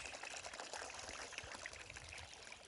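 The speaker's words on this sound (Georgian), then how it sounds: "ხელმეორედ კიდევ ასხამ წყალს" Water poured and trickling while food is being washed by hand in a home kitchen, a soft continuous splashing stream heard close and fairly faint.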